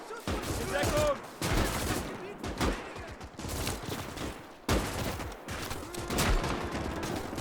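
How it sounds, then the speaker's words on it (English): Heavy gunfire from a WWII-style battle in Gates of Hell Ostfront, including Russian anti-tank rifle shots, booms out in repeated loud cracks and rolling volleys with overlapping bursts throughout. "So now Russians are using the anti-tank rifle as sort of a sniper rifle of sorts"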